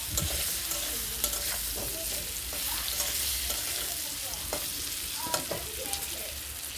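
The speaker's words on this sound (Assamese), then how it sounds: "আৰু হালধিখিনি এড কৰাৰ পিছত মই অলপ লাৰি দিছোঁ" Turmeric is stirred into a pan of frying singhi fish curry with papaya and potato. A steady hiss of oil runs under repeated scraping strokes of a spoon against the pan.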